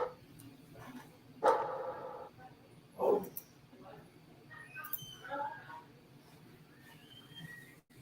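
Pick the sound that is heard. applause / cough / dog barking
dog barking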